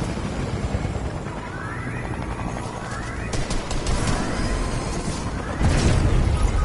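A helicopter in the Fortnite video game whirs loudly and steadily through a busy stretch of in-game battle, its rotor noise rising near the end with other game sounds around it.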